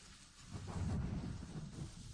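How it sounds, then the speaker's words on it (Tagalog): Heavy rain falls with a rolling rumble of thunder, a broad hiss of downpour swelling under a low, muffled roll that peaks and fades. "Naku, ang lakas ng ulan."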